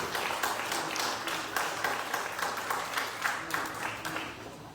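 Applause for the new Prairie View A&M women's basketball head coach at a press conference, a steady patter of many hands clapping at moderate volume throughout, with faint voices mixed in.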